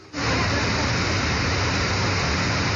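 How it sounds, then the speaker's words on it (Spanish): The flooded Damas River in Ayuriquín parish, Santo Domingo de los Tsáchilas, Ecuador, rushing over its containment wall after a storm. It is a loud, continuous roar of water that starts abruptly and holds steady throughout. "Por la fuerza del agua, el río se salió de su cauce y pasó cerca de las viviendas."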